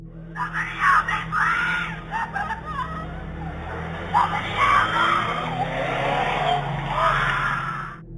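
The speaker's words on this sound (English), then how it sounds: "suddenly a car comes into view, speeding down the street. The engine hums low" A car speeds down a residential street at night, its tires squealing in wavering, rising and falling screeches over a rough engine rush that swells and fades across several seconds.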